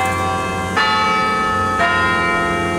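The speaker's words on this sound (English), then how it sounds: "When the clock strikes noon at Beaumont Tower" Large carillon bells of Beaumont Tower on a university campus ring out at noon, two sustained rich strikes about a second apart over a lingering, humming resonance, with no voices.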